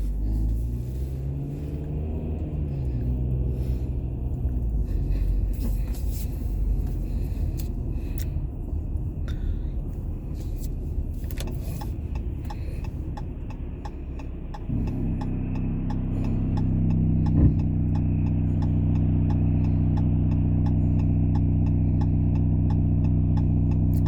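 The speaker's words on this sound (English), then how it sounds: "I just realized the bus just passed" A bus rumbles past with a low engine roar and ticking, swelling in the second half as it draws nearer and settles into a steady heavy drone.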